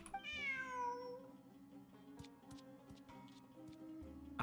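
A cat meows in the Genshin Impact video game, one clear rising-then-falling meow up front, followed by a steady background of soft game music and light ticking sounds with no speech.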